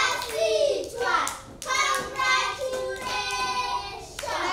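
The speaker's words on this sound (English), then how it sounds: "Clap for Natasha." Schoolchildren in a classroom clap for their classmate Natasha, a dense round of hand claps mixed with loud, overlapping children's voices in bursts.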